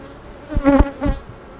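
Honey bees buzz around a beehive during colony split preparation, a low droning hum that swells briefly in a couple of close passes before fading back.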